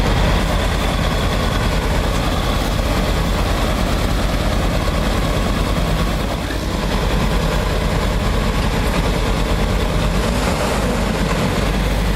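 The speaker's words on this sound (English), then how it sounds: "mud splattered everywhere, engines roaring, yet nobody's going anywhere" Heavy tractor engines roar steadily while stuck in a muddy field, a loud, dense, continuous low rumble with no talking over it.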